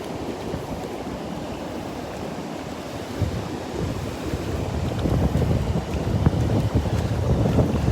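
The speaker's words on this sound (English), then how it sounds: "the waves are a lot bigger than they were yesterday." Ocean waves break on the beach at Delnor-Wiggins, a broad steady wash of surf mixed with wind buffeting the microphone, swelling a little louder toward the end.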